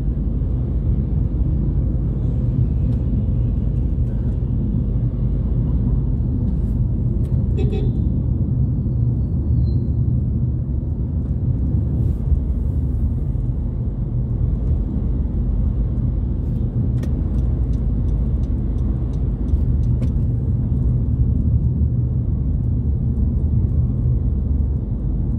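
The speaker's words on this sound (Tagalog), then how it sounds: "Traffic dito sa EDSA mga idol." Steady low road rumble of traffic along EDSA in Manila, a continuous dense drone of engines with occasional brief higher sounds, fairly close and loud throughout.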